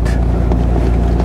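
Rusty project Jeep engine idling close to the microphone, a loud steady low rumble with rhythmic pulsing and some wind buffeting over it.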